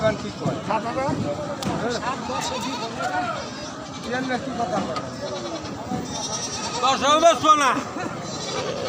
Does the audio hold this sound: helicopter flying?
no